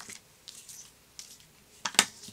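Scissors snip through a paper branding strip cut from striped scrapbooking paper, a few quiet crisp cuts with a sharper, louder snip near the end.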